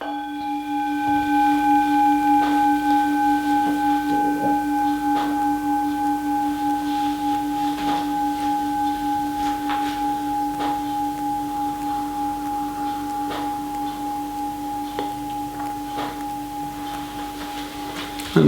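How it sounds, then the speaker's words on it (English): A meditation bell rings with a sustained, steady tone that hangs and slowly fades over many seconds, its resonant hum holding evenly throughout with faint background sounds and no speech. "And we can begin just hearing the sound of the bell."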